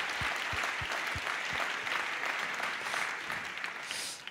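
Faint applause from an audience at an awards ceremony, a soft even patter of clapping with a few low thuds early on, heard from a distance and fading at the end.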